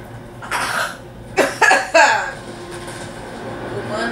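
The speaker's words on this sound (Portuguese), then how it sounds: "O mano engasgou com pigarro e eu tossi." Several close coughs and a throat-clearing burst out in quick succession from a gamer playing Battlefield 1, with an earlier short rasp before them and a faint game rumble beneath.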